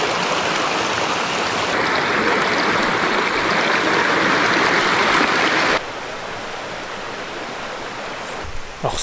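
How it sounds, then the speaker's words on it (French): Steady broadband rush of the Trois Pitons river stream in Dominica, loud and continuous, with a slight drop in level partway through and no voices. "nous sommes à la rivière des Trois Pitons"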